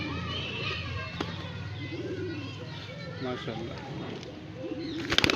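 Pigeons from Moradabad, including a white female, coo and flutter at a summer flying tournament in Bareilly, with wing flaps bursting near the end while someone talks over them.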